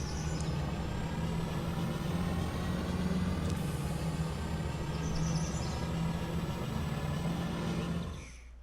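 A car engine in LittleBigPlanet 3 on PS4 drones steadily, revving through a quarter-mile run with an early shift, loud and continuous until it drops away at the very end.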